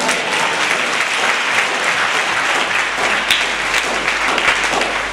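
A church congregation applauding, a dense, loud, steady wash of many hands clapping throughout, with faint voices underneath.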